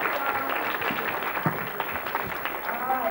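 Audience applause at a live Nickelodeon Studios audition show at Universal Studios Florida in 1990, a steady patter of clapping from the crowd lasting the whole moment, with voices mixed underneath.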